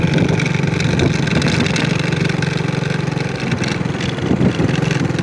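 Motorcycle engines rumble and rev along a newly built concrete road, a steady mid-pitched drone with passing swells and a brief revving near the end, heard from the roadside.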